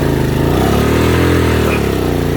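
A motorcycle engine labours loudly up a steep mountain climb, its strained, rough drone filling the whole clip, close and continuous.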